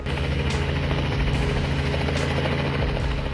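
A rescue helicopter over floodwaters in Katherine, Northern Australia: steady, heavy rotor thump and engine drone fill the scene continuously, loud and near, with no other sounds standing out.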